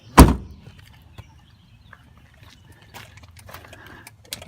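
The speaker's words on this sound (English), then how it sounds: "I can close the trunk now" A single loud, sharp thunk as the trunk lid of a Dodge Avenger slams shut, close by, followed by faint rustling and small handling noises.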